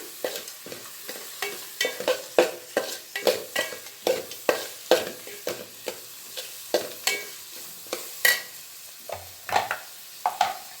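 A spoon stirs paneer capsicum gravy in a pan with tomato-cashew masala, making repeated rhythmic scraping strokes about once a second over a soft sizzle, close and alone without talk.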